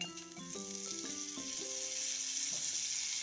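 Butter sizzling in a kadhai while pav bhaji is being made: a steady, close, bright frying hiss that runs throughout, with a stepping tonal melody playing alongside it.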